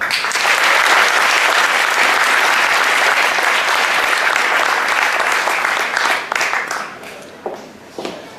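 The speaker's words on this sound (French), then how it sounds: "Je vous demande d'applaudir très très fort Sidi Karastra." Loud, sustained applause from a large crowd fills the space, then thins out into scattered claps near the end.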